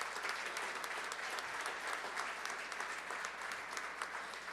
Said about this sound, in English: A big round of applause, please, for all of our heroes for the homeless tonight.